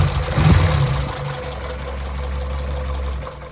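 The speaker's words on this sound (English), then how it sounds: "It's idling and ticking along very smoothly now." Morris Minor engine fitted with electronic ignition idling, a low steady rumble with even ticking pulses, preceded by a brief louder burst at the start before it settles into a smooth, consistent idle.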